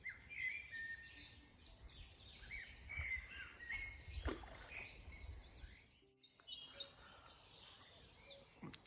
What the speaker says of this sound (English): Cuckoo in the background.